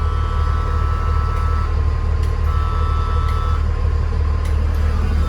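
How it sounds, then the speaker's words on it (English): A steady electronic buzz from a vehicle's buzzer drones continuously over a constant low engine hum inside the vehicle with the AC running, with faint brief clicks now and then. "Hear the buzzer back there buzzing."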